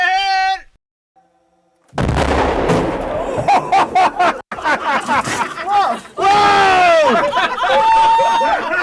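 A snowmobile is blown up with Swedish dynamite outdoors, a sudden loud blast followed by crackling debris and bursts, with excited voices shouting afterward.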